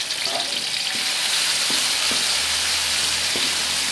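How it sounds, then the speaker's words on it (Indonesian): Ground spice paste sautés in hot oil in a pan for a liver and gizzard oyster sauce dish, a continuous loud crackling sizzle with a few light taps from stirring. "Oke, bumbunya kita tumis."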